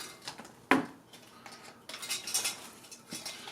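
A heaping scoop of essential amino acid powder is dug out and knocked against a container, giving a sharp clink followed by soft scraping and rustling, close and fairly quiet.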